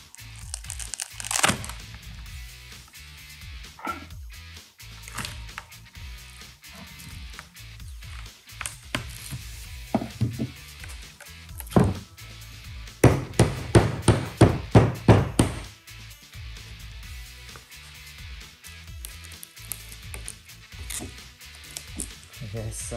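Cork-lined mold pulling free from a cast blue epoxy resin moon lamp, heard as scattered crackles and crinkling snaps, then a quick burst of sharp cracks near the middle, close up with people talking around it.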